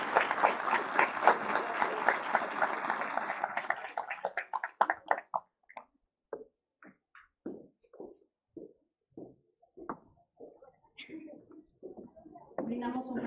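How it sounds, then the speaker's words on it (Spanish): Warm applause from an audience at a graduation ceremony fills the first few seconds, then fades into scattered claps as a voice begins speaking over a public address system. "Brindamos un fuerte aplauso"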